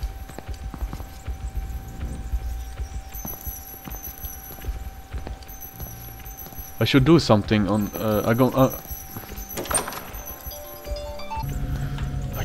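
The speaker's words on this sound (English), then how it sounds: "I can hear the pig's footsteps." Heavy hoof-like footsteps of a pig in the horror game DreadOut, a steady clopping rhythm close by, under a player's nervous talk and faint ambient hum.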